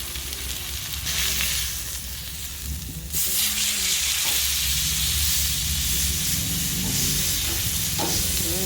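Smoked tri-tip steak sears on a hot surface, with a soft hiss that jumps into a loud, steady, bright sizzle about three seconds in and holds to the end.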